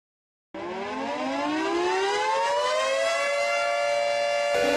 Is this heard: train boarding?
no